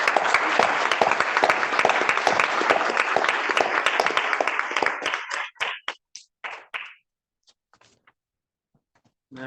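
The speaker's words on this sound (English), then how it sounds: "Round of applause for Bob Haberman." Club meeting members applaud in a brisk, close round of clapping that thins into a few scattered final claps and then silence.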